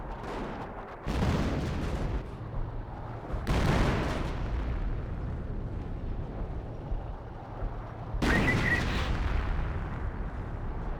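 An artillery barrage and gunfire in the Company of Heroes 1 real-time strategy game, Wehrmacht against British, rolls on as a dense, continuous rumble punctuated by three heavy booming blasts.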